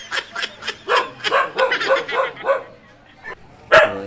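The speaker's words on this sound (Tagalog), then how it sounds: "pagpasensyahan nyo na yung aso sa kabilang bahay guys" A neighbour's dog barks in a string of sharp, fairly close yaps and bow-wows, then pauses and lets out one last louder bark, with no talk over it.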